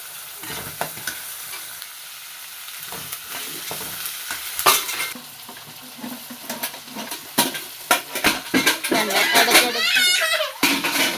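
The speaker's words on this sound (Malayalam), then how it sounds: "ഇതാ ഒന്ന് ഫ്രൈ ആയി വരുന്നവരെ ഇടയ്ക്കിടയ്ക്ക് ഇളക്കി കൊടുത്തുകൊണ്ടിരിക്കണേ" Onion and garlic fry in coconut oil and are stirred with a spatula, giving a sizzle beneath repeated scraping and clinks against the pan; a voice is heard in the background.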